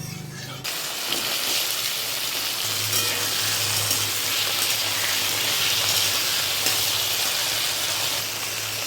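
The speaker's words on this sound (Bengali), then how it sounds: "এবার আলুগুলো প্রথমে দিয়ে দেবো।" Potatoes dropped into hot mustard oil, bursting into a loud, dense, continuous sizzle that holds steady for several seconds, with no talking.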